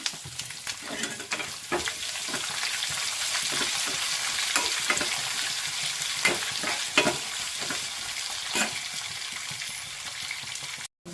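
Chopped onion for a masala dosa potato palya fries in a pan, giving a continuous bright sizzle broken by repeated scraping stirs, close and steady.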